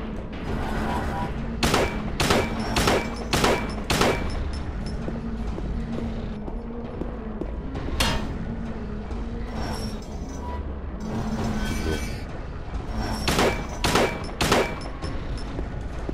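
Bursts of rapid gunfire in Silent Hill 2 crack out in several clusters over a constant background of engine-like noise and clatter, loud and close.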